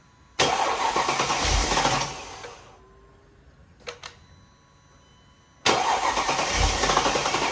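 A Mercedes W211 E55 AMG engine cranks over in two loud, sustained bursts of churning starter noise, separated by a quiet gap with a brief clatter; no voices.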